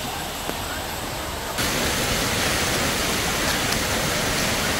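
Floodwater rushes like a river down a colony road in Ugarakola village: a steady, loud, broadband roar that swells noticeably after the first second and a half, then holds without pause and with no talk.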